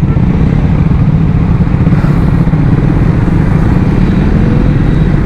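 Triumph Scrambler motorcycles on a breakfast ride idle and rumble as they line up at a petrol station, a loud, dense, continuous engine drone close by.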